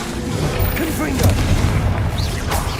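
Confringo explosive spell blasts in Hogwarts Legacy produce a continuous rumbling boom amid combat noise, loud and sustained, while a voice talks over it.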